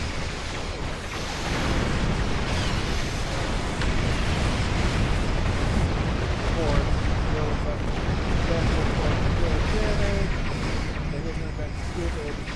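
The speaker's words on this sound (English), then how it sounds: "These heavy artillery ships are taking fucking ass." Heavy artillery ships trading cannon fire in the space game Star Trek Online, a dense, loud, continuous rumble of booming shots and explosions layered over one another with no letup.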